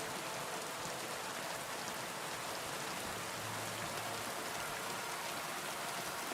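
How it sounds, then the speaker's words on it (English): Steady, dense rain falls throughout in the video game Kingdom Come Deliverance 2, a continuous hiss of drops on surfaces with no talk and no break. "It is raining a lot."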